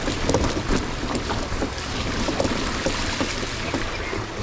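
An Ola S1 Pro electric scooter rides through water deep enough to submerge its tires, giving continuous splashing and sloshing with rough wind noise, loud and close throughout.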